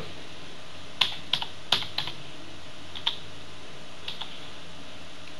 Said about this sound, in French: en tapant le nom de la personne ou le pseudo de la personne